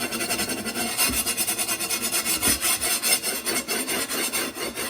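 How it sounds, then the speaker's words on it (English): Rhythmic scraping and rasping strokes rub back and forth across the bottom of a cast iron pan, close and fairly loud, with no talking. "You can hear it when I rub across this bottom."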